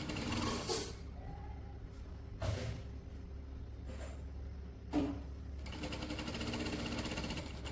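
A sewing machine stitches the band collar of a kurti with the fabric held flat, its steady mechanical whir running in a few bursts broken by short sharp clicks and pauses, close and moderately loud with no talking.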